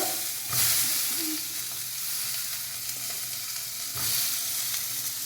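Onions, tomatoes, garlic and cumin sizzling in hot oil in a pan over a flame, a steady dense hiss with a couple of soft stirring scrapes, no voices.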